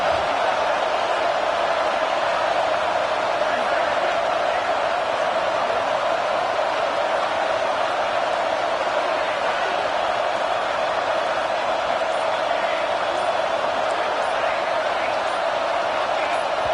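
Stadium crowd roaring at a college football game between the Dukes and Alabama, a loud, sustained wall of noise with no breaks, building pressure on a third-down play.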